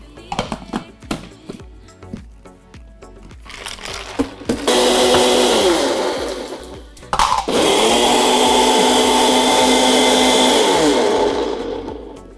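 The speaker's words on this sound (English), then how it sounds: "So let's just get this blended up." A countertop blender whirs through a vanilla bean blended coffee frappuccino with ice, starting after rattling handling sounds, then roaring loudly in two long bursts with a brief pause between.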